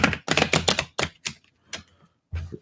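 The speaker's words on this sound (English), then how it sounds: "Let's do last shuffle." Tarot cards being shuffled by hand in quick, papery bursts: a rapid flurry of riffles, then a few separate slaps and snaps with short pauses, close and clear with no talk.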